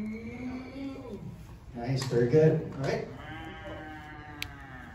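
A person at a comic convention imitates a cow's moo with a drawn-out bleating voice, loud and close, followed by talk.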